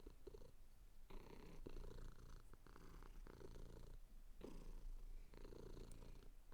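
A cat purrs steadily up close, the low rumbling pulses coming in a regular rhythm of breaths with no talking over it.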